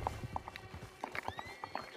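A horse in the Red Dead Online video game clip-clops along at a walking pace and gives a short whinny, the hoofbeats quick and fairly close.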